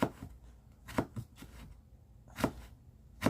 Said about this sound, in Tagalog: Tapos, i-chop nyo siya ng maliliit.